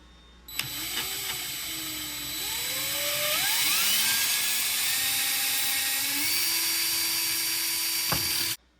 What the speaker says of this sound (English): you want to kind of drill those out a couple of times